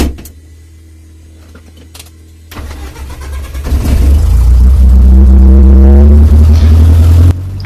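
A Cessna 152 propeller engine cranks and catches after a quiet stretch with faint clicks, then swells into a loud, steady, throbbing roar that holds until it drops off near the end.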